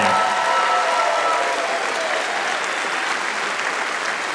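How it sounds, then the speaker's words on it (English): Audience at a convention closing ceremony applauds steadily, a dense, even wash of many clapping hands that continues throughout without a break. "One more round of applause, friends."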